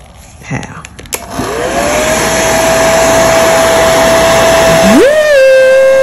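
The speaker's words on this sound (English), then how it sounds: "Let me get my blow dryer." A blow dryer heats temperature-changing nail polish, starting with a click and a rising whir, then a loud steady blowing drone that shifts pitch near the end as the setting changes.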